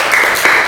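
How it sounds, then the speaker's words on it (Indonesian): Brief burst of audience applause at an Indonesian university teaching practice session, a dense wash of clapping from a group, loud and close, with no talk over it. "tepuk tangan buat kita semuanya"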